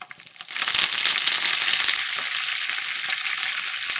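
Slit green chillies and a sprig of curry leaves hit hot oil for temple-style pulihora, setting off a sudden loud, close sizzle that crackles steadily throughout.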